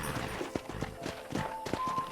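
A horse in the video game Red Dead Redemption walking, with a steady rhythmic clip-clop of hooves, fairly close, over faint background ambience.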